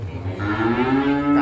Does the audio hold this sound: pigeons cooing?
no